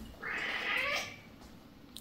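A house cat lets out one long, loud, drawn-out meow that swells and fades close by, then the room falls quiet.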